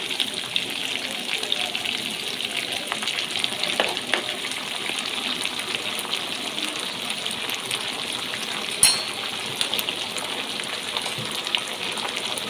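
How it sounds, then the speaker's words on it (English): Black soy sauce poured into honey garlic chicken breast in a hot pan, a steady close sizzle and frying hiss lasting throughout with a few faint clicks. "I'll also add 1 tablespoon of soy sauce"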